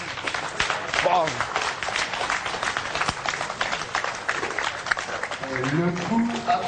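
An audience applauds at a pétanque match, with steady crowd clapping close by and a voice talking over it.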